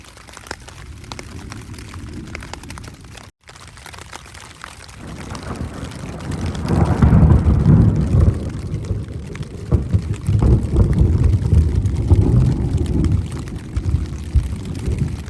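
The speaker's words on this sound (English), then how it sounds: "The center of the storm's about to come over." Wind roars and gusts against the microphone in a North Texas thunderstorm on open grassland, swelling louder partway through, with a heavy storm rumble and steady rain-like hiss.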